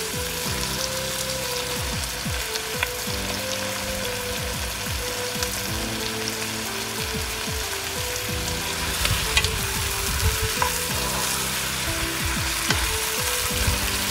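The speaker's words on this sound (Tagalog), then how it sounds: "Igisa lang natin siya sa mga bawang, luya, at saka sibuyas with kamatis." Salmon sautéing in a pan with garlic, ginger, onion and tomato makes a steady sizzle under repeated mechanical clicking and ratcheting from nearby equipment, with no voices.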